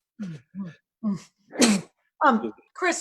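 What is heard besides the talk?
sneeze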